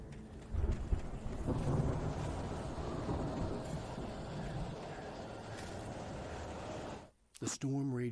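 Thunderstorm in the video game Alan Wake: a steady, dense roar of rain and storm noise fills most of the stretch, then cuts out abruptly near the end, where a voice briefly speaks.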